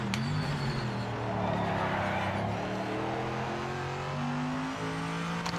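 A car engine in a racing video game, revving steadily as the pitch climbs and drops through gear changes, loud and continuous with no pauses.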